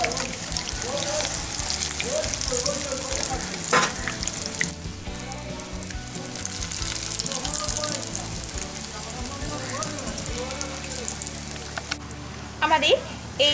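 Filled Malabar spinach leaf fritters sizzle steadily in hot oil as they turn brown and get flipped. A loud, close, continuous crackle fills the clip, with a few sharper clatters of handling toward the end.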